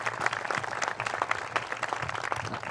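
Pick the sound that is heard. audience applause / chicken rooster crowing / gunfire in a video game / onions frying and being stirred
audience applause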